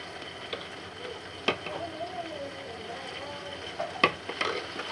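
Tomatoes and salt stirred in a pan for egg biryani, a soft scraping and sizzling over medium heat with a few sharper clicks of the spoon against the pan, steady and close, with no talking.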